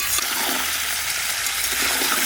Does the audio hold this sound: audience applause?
no